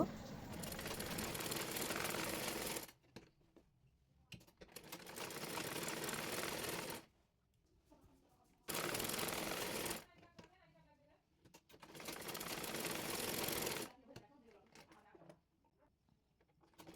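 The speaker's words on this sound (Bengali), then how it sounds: "পর পেছন পাটের উপরে সামনের পাটের কাপড়টি রেখে কাজ সেলাই করে নেব।" A sewing machine stitching fabric for a child's kurta runs in several loud, steady bursts of a few seconds each, separated by quiet pauses with faint handling noise.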